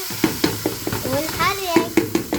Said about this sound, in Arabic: طبعا بنضلنا مستمرين في التحريك بعد ما نحط الملح